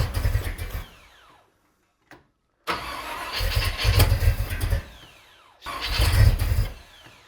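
Ford FE 352 V8 cranking and trying to fire: three bursts of starter churning with rough, sputtering half-catches, separated by short pauses, close and fairly loud.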